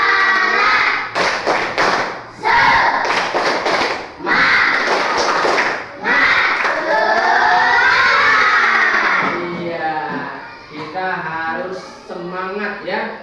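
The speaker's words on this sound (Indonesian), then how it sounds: "Ya, lagu Tepuk Semangat." Schoolchildren in an Indonesian classroom chant and shout the Tepuk Semangat clapping song in unison, loud and close, with rhythmic claps and thumps between the chanted lines.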